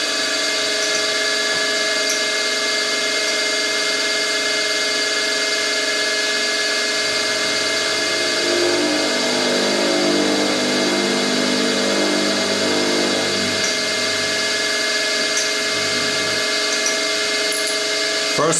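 Milling machine power feed driving roughing cuts 5 millimeters deep, with a loud, steady motor whine and tonal harmonics throughout and a lower grinding layer joining midway as the cutter works, no talking.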